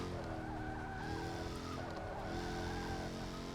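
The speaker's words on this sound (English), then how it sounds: "It keeps that proper roar that you get from a Jaguar F-Type." A Jaguar F-Type roars in the racing game Forza Motorsport 6, a continuous throaty engine drone with tire squeal, steady and loud throughout without pauses.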